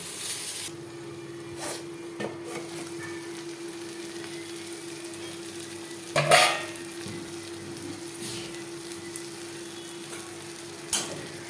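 Fish oil curry simmering in a pan on a low gas flame, a faint steady sizzle with a low hum underneath and a few soft clinks and scrapes scattered through.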